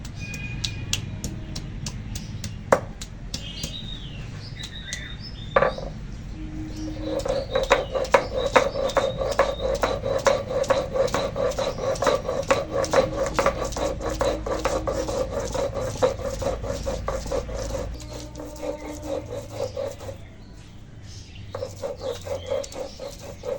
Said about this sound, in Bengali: এখন আদা রসুন বেটে নেবো